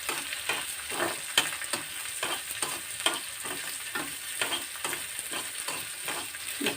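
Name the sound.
tempering and frying dried red chillies on low heat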